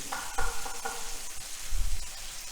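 Tomato sautéing in oil in a pan for jeera aloo, a soft close sizzle with a few scraping strokes and low thumps of stirring, no voices.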